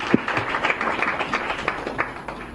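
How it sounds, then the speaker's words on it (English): Audience applause for panelists at a dialogue on gender roles and the care economy, a steady wash of many hands clapping at moderate level, with a few sharper claps standing out near the start. "Can we please give a big round of applause for our panelists?"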